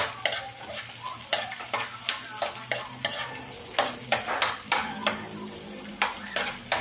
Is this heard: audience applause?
no